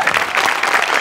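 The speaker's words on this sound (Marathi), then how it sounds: "आर्ट डिपार्टमेंटसाठी एकदा जोरात टाळ्या वाजवूया." Studio audience applauding the art department on a Marathi comedy show stage, a dense, steady burst of many hands clapping together throughout, loud and close with no voices over it.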